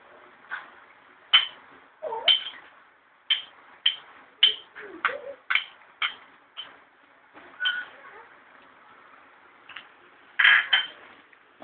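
A spoon or spatula scrapes and clinks in a pan while shrimp paste is stirred into Bicol Express with meat and coconut milk, a steady series of sharp close taps and scrapes at irregular intervals.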